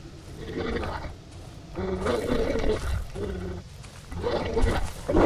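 A dog growls in the survival horror game Darkwood, a low, rough, sustained snarl that swells and fades in several loud surges over ambient game noise.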